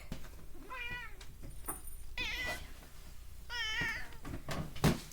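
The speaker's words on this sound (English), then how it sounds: "I have a cat. There's a cat." A house cat meows several times in a row, close and clear, each call rising and falling, with short quiet gaps between them and no talking.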